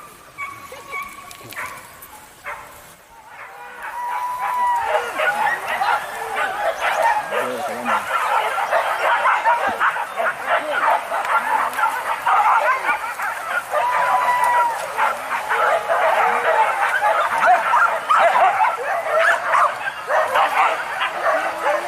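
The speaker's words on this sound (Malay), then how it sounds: "Anjing tu." A dog barks repeatedly and steadily, close and loud, during a hunting outing in rural West Sumatra, with a rooster crowing and faint voices in the background.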